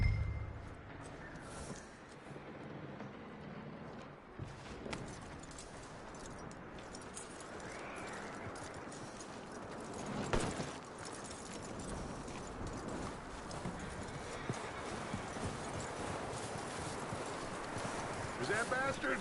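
Steady clip-clop of horse hooves plods on throughout in Red Dead Redemption 2, with game ambience around it and occasional voices talking over it.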